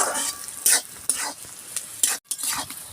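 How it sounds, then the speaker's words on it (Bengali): Onions fry in a pan for a chicken dish, a soft continuous sizzle under repeated scraping strokes of a spoon stirring through them, fairly quiet with a brief pause near the end. "আর একটু ভাজবো"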